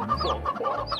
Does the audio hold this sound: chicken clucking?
yes